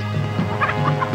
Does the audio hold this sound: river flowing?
no